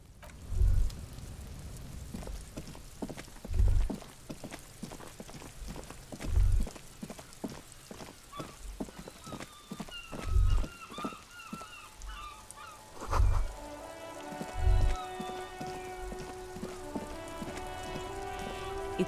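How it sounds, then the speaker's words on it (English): Rain in a video game, a soft steady patter of drops on surfaces with periodic low thuds and birdlike honking calls layered on top, fairly quiet. "It's raining again."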